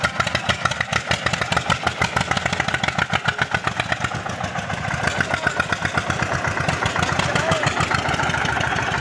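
An Eicher tractor engine runs steadily in the open, a loud, close, rhythmic thumping idle that carries on without a break and with no talk over it.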